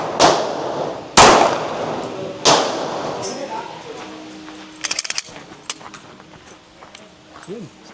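Several sharp gunshots from a CZ P-10C pistol ring out at spaced intervals at about 15 meters, three loud cracks followed by fainter clanks and metallic clicks, with voices nearby.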